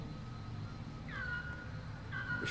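A cat meows twice, fairly close, each cry a clear drawn-out call over a low steady background hum.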